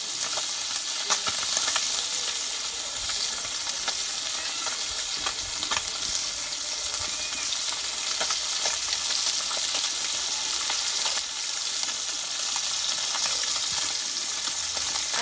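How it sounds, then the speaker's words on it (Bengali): Tengra fish and prawns fry together in a pan with oil, making a continuous close, crackling sizzle with faint stirring ticks and no voices. "দেখো বন্ধুরা চিংড়ি মাছ তো অল্প সময়ে ভাজা হয়ে যায় আমি কিন্তু একই সঙ্গে সব মাছগুলো দিয়ে দিয়েছি"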